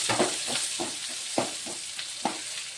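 Onions frying in hot oil with curry leaves and coriander, a steady close sizzle broken by several sharp scraping stirs of the spatula, no voices.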